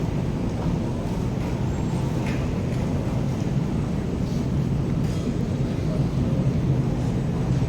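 Ambience at Chennai airport: a steady, dense roar of aircraft and terminal noise fills the whole stretch, with no distinct breaks and no voices standing out.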